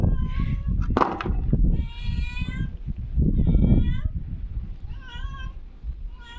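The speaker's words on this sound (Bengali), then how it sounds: "এই যে বিড়াল অপেক্ষা করতেছে খাবার ফালাবো।" A cat meows repeatedly while waiting to be fed, its drawn-out calls clear and close, with a voice and handling noise mixed in between the meows.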